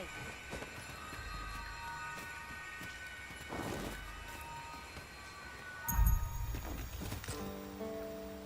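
A thunderstorm in the video game Dragon's Dogma 2, with steady rain hiss and low rolling thunder that swells in a heavy boom near the end, while faint background tones linger.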